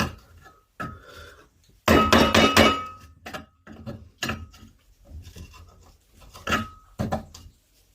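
A hammer taps a small handmade wooden Christmas tree in irregular knocks, with a rapid burst of sharp blows in the middle, close and clear in a quiet workshop.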